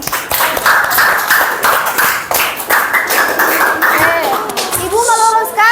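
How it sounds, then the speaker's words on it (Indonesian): Classroom group clapping their hands for students after a lesson answer, dense broadband claps over about five seconds with some children's voices and a rising whistle-like tone toward the end. "Tepuk tangan dong."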